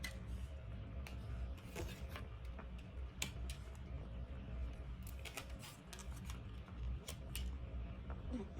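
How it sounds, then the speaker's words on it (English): Tarot cards handled and set aside, faint soft ticks, slaps and card shuffles scattered irregularly at close range over a low background hum. "I'm going to go ahead and put these cards to the side"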